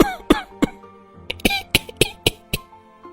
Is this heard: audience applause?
no